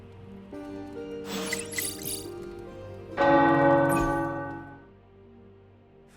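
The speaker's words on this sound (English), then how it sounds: "The tower bells are ringing." Video game church tower bells ring out with layered, resonant tones, a first peal fading before a louder second strike swells and slowly decays.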